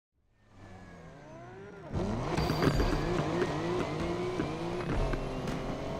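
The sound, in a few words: car driving in the video game Need for Speed Unbound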